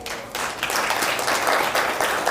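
Audience at a philanthropy and climate action anniversary event applauding softly, a steady patter of many hands that swells slightly and holds at moderate volume without talk.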